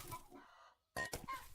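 Video game hens clucking in a henhouse, a few short close clucks in two bursts separated by a brief silence.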